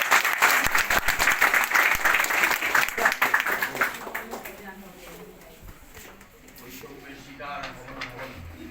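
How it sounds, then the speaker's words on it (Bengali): Applause at an award ceremony for the top branch manager, a dense burst of clapping from a gathered crowd that fades after about four seconds into quieter room noise and scattered voices. "ওনার জন্য সাদরে তালি হবে।"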